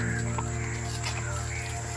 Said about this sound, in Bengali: এই যে এখানে হাজার হাজার পাখির ডাক